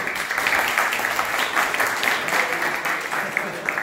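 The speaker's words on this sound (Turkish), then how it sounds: "Bir alkış yapabiliriz" An audience of students and teachers at a summer camp for an imam hatip high school in Antakya, Hatay, gives a steady round of applause, dense clapping holding evenly throughout.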